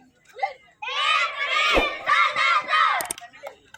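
A youth football match crowd of excited children and spectators shouts and screams loudly in bursts, near and overlapping, with brief quieter pauses between surges of cheering.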